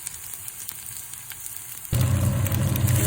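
Garlic hits hot oil and bursts into a loud, steady sizzle of frying for sinangag garlic fried rice, the crackle jumping up sharply midway after a quieter hiss, with no voices.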